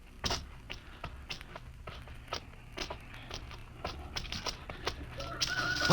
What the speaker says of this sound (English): I could swear that sounded like a rooster.